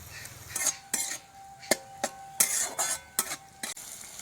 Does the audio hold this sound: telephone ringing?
no